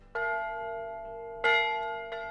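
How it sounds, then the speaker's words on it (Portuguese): A church bell rung by the sacristan strikes three times, the first two spaced over a second apart and a third soon after, each ringing clear and sustained with a long bright decay. "Toca o sino, sacristão, por favor."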